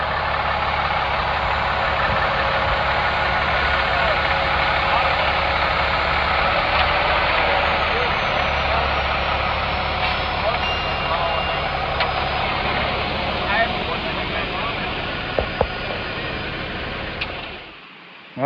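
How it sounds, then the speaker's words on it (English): A concrete truck's heavy diesel engine idles at a construction site where footers were just poured, a steady low rumble running continuously before dropping off near the end, with a few faint clicks. "Looks like a concrete truck."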